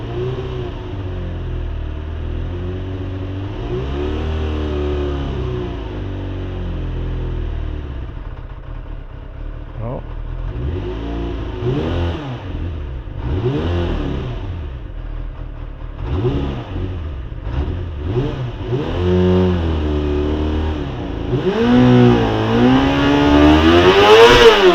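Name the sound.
1991 Kawasaki ZXR400 motorcycle engine starting and revving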